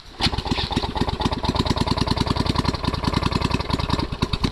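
A small motorcycle-type engine turns over and settles into a rapid, even putter close by, with a sharp burst at the start followed by a steady rhythmic idle throughout.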